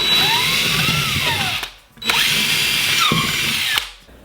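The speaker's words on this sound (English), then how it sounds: "Now with your drill and drill bit, make your holes" A power drill with a 3/16 bit bores pilot holes into a wall for plant shelves, whining in two long bursts with pitch rising and falling under load, separated by a brief pause.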